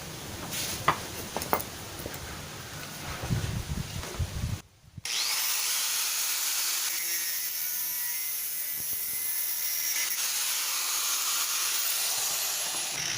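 A full-thread rod on a spray paint can is cut: a few seconds of scattered handling clatter, then a brief gap and a loud, steady, close power-tool grinding whine that runs unbroken for about eight seconds.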